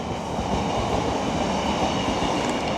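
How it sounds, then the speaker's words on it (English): A train rumbles past steadily and loudly behind a shopping centre, heard from a bike path, with a continuous low rail roar and clatter throughout and no talking. "There's a train."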